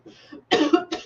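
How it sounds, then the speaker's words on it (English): A short throaty vocal sound, then a couple of harsh coughs close to the microphone in quick succession. "Why do I have a cough?"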